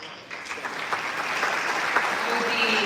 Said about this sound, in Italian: And a round of applause for Judy Kenda.